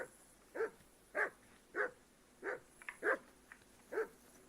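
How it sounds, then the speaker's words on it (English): Repeated barking from a dog in the video game Kingdom Come Deliverance II, about seven sharp barks in an even rhythm. The barks are fairly close and stand alone over a quiet background. "Henry, whistle at that mutt of yours to stop barking."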